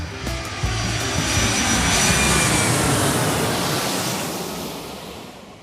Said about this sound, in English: part one of Stanley's round trip story gets ready for takeoff